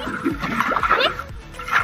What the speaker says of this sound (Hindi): पानी अभी छीट रहा है, ये देखिए